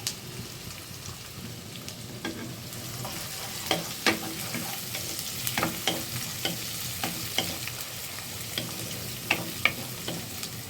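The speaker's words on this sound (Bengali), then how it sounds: "চিংড়ি মাছ আর পেঁয়াজ একটু ভাজা নেব সুন্দর করে" Shrimp and onion fry in a pan with a steady soft sizzle, while a utensil stirs and scrapes at irregular intervals, close and fairly quiet.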